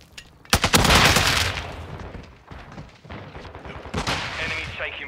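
Rapid automatic gunfire in the Call of Duty Modern Warfare 2 video game, with loud close bursts and overlapping rattling volleys, then more scattered shots that continue through to the end.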